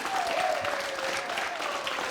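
An audience on a television entertainment show applauds an entrance, a continuous wash of clapping heard alone and fairly distant, with a faint tonal sweep running through it.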